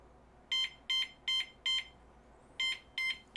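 An alarm clock built into a bedside table lamp beeps in a quick electronic pattern, four short bursts, a pause, then three more, close and clear against a quiet room.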